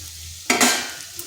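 Soybeans and papaya pieces hit a hot frying pan with a sudden sizzling burst and a scrape of stirring, then the hiss quickly fades to a low crackle.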